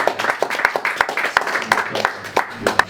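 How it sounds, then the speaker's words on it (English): Scattered clapping from an audience at an evening event at a farmhouse venue in Coventry, with sharp individual claps standing out over a low hum of voices. "So give Tagasa a big round of applause."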